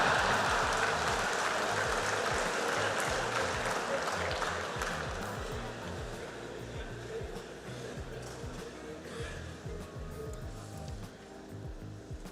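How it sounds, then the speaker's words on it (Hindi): Audience applause filling a large convention hall at the SEMICON India 2025 inauguration in Yashobhoomi, a dense, steady clapping wash that gradually fades over about twelve seconds. "आया हूं इसकी ताली बजा रहे हो।"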